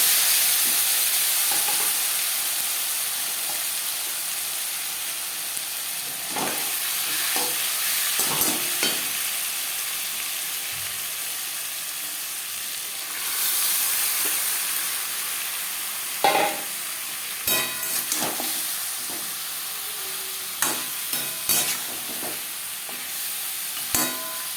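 Marinated mutton goes into hot mustard oil in a pan, a loud sizzle that settles into a steady frying hiss with occasional clatters of a spoon against the pan, no talking.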